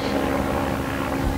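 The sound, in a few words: helicopter coming in to land at a clinic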